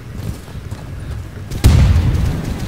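A single loud, deep boom from a frag grenade exploding in the shooter Insurgency, a sudden blast with a rumbling tail over low background game noise.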